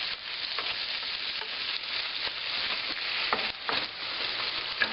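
Caponata vegetables cooking together in a pan, a close, even sizzle with faint stirring scrapes and no talk.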